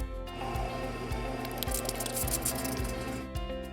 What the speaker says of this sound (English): You should have seen some air bubbles pop out the bottom of the fountain